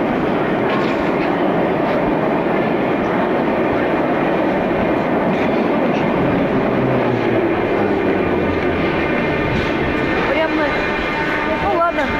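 A continuous loud rumble of a metro train running, steady roar with rattling throughout, people's voices faintly mixed in.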